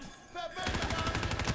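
A machine gun with 480 rounds and no stock, firing in Call of Duty Black Ops 3. A quiet lead-in gives way to a loud, sustained automatic burst.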